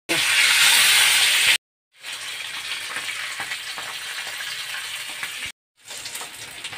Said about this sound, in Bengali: বাকি মাছও আমি একইভাবে এপিট এপিট করে লাল লাল করে ভেজে নেব